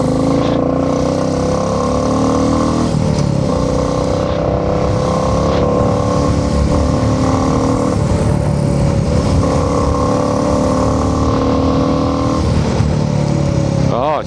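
A motorcycle running steadily during a ride, with a loud, continuous engine drone and rushing wind noise throughout, without pauses or speech.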